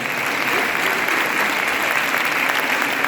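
An audience applauds a person who has been asked to stand at a book presentation, dense continuous clapping filling the room at a steady, loud level from start to finish.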